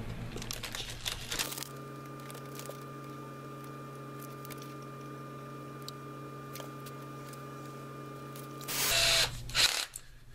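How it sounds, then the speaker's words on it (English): A power drill whines at a steady pitch for several seconds while drilling a pilot hole, then a brief louder burst as it bites in, with small clicks around it. "drill the pilot hole like we've been doing"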